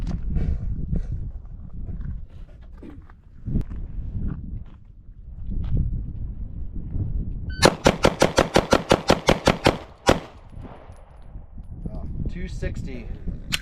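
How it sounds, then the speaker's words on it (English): A fast string of about a dozen pistol shots from an IWI Masada Slim handgun cracks out in a tight, even rhythm, loud and close, with talk before and after the burst. "I'm doing 13 rounds in each of my guns to see which one I can fire fastest and more accurate."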